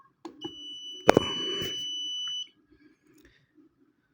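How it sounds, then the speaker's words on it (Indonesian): An energy meter's alarm sounds a steady high electronic beep that holds unbroken for about two seconds and then cuts off, with a few faint clicks and handling noises around it. "Itu akan memberikan alarm terus-menerus"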